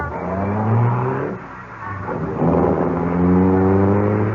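A car engine in a radio mystery drama, loud and close, revving and droning with a brief dip in the middle before climbing again, and no talk over it.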